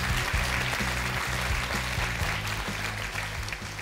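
Studio audience at a televised crowdfunding special applauds after a cooperative's representative is introduced, a thick wash of clapping over a low rhythmic music bed that runs underneath throughout.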